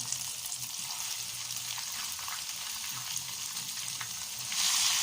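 Chicken tikka frying in hot oil gives a close, bright, continuous sizzle with a crackling hiss that swells louder in the last moment.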